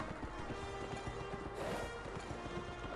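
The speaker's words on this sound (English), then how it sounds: "Charge, my pony!" Horse hooves galloping in the video game Kameo, a quiet, steady clip-clop rhythm under faint background game noise.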